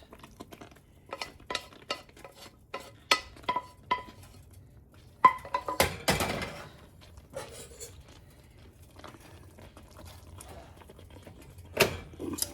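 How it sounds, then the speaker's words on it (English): Spaghetti noodles stirred into a creamy tomato sauce in a pot, giving scattered soft clinks and scrapes of a utensil against the pot, quiet and close, with no talking. "So let's put our noodles into the sauce"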